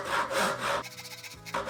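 A hand saw cuts through wood with a V-shaped sawing technique while making a tenon, producing close, loud rasping strokes in a steady back-and-forth rhythm with a brief lull midway.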